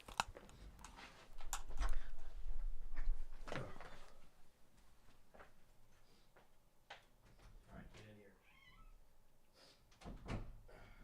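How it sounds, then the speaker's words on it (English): A house cat meowing at a door to be let inside, heard as a few short, moderately faint meows spread among soft thumps and room noise. "Tempted to let this cat in."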